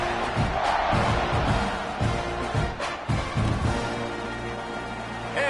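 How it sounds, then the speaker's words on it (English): A football stadium crowd roars and buzzes after a score, a dense sustained cheering wash with whoops rising over it, loud and continuous throughout. "this crowd is buzzing after that last score"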